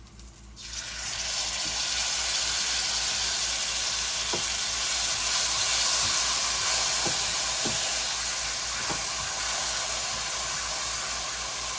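Consommé hits a hot oiled pan holding a tortilla and bursts into a steady, loud sizzle and hiss that carries on without a break, with a few small pops and no voices.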